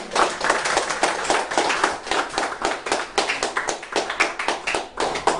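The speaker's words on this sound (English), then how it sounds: "Give her a big round of applause." A round of applause after a charity speech, brisk, close hand clapping in a steady, dense patter that keeps going throughout without talk.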